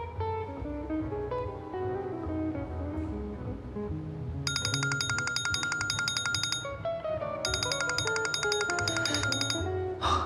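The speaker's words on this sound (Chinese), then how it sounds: "公司的电话，" A phone rings with a call from the company, its electronic ringtone chiming in two bursts over a background of music inside a home.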